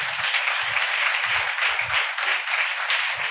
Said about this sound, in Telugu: ఒకసారి చప్పట్లు కొట్టండి దేవునికి.